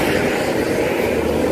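A Zentrum GZ90 bus passes close by with a loud, sustained engine and exhaust roar, a broad rumbling drone that fills the whole short moment.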